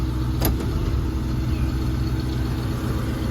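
A 1978 Jeep Cherokee engine runs steadily as the truck backs up in reverse, a continuous mid-low rumble with one brief sharp click near the start, no voices.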